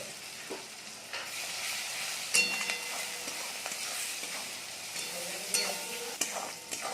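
Onion, tomato, chopped green chilli and spices with salt, turmeric and roasted cumin powder frying in a pan, a continuous close sizzle with repeated scraping stirs and occasional clinks of the spoon against the pan.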